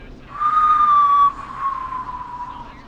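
A caller whistles over the phone in the video game Killer Frequency: a steady, clear tone held for about a second, then a fainter, lower continuation trailing off, slightly thin as if through a phone line.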